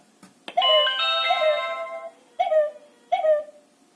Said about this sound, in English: And the ding, da ding, ding that you can hear, that is actually coming out of the doorbell itself